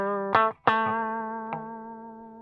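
Electric guitar playing single sustained notes through a Dumble-style overdrive pedal with a Boss ES-8, three picked notes ringing out with warm harmonics and slow decay, alone and clear.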